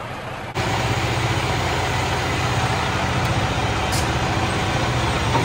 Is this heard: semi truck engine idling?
yes